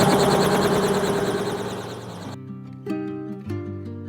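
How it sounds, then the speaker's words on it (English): Helicopter engine winding up for takeoff on a first sightseeing ride in New Zealand, a loud, dense turbine whine and rotor throb filling the first two seconds before cutting away to quieter tonal sounds. "Here we go, my first helicopter ride."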